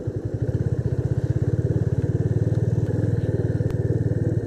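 A motorcycle engine running near a dense forest road during a monsoon ride, with a steady rapid thumping idle pulse, loud and close, holding an even rhythm throughout with no talk.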